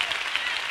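A church congregation claps during a sermon, a brief, dense wash of steady applause lasting under a second.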